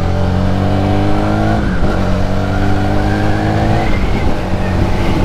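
A Zontes V310 motorcycle rides and accelerates loudly up close, its engine note climbing in steady pitch sweeps and dropping at each gear change, with no talk over it.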